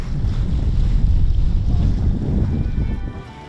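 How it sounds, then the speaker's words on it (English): Sailing yacht motoring under remote control, a rumbling low drone mixed with heavy wind buffeting the microphone and water rush, steady for a few seconds before easing off. "Oh, we're driving the boat."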